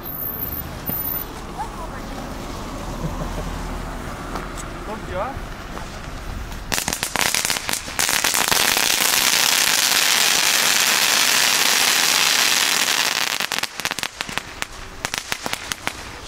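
A Lidl consumer fireworks fountain is lit outdoors, and after a quiet stretch with faint background sounds it bursts into a loud, continuous hissing, crackling spray for several seconds before sputtering and dying down.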